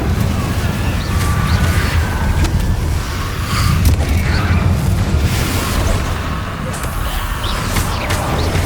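Spell explosions boom and crash one after another in the Hogwarts Legacy video game, a dense, loud barrage of blasts and impacts with no pause.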